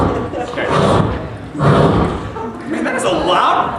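A plastic grocery basket set down hard at a Walmart, giving a loud hollow thud and clatter, with people talking throughout.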